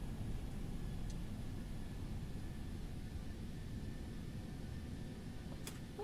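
An airliner rolls out after landing at San Diego's airport in bad weather, with thrust reversers deployed and maximum manual braking: a steady, even, low roar throughout, heard without talk.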